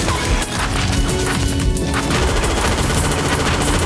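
Dense, continuous gunfire in an action film firefight, rapid overlapping shots and bursts mixed with crashing impacts, loud and close throughout with no pauses.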